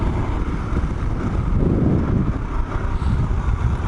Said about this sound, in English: Get pretty windy.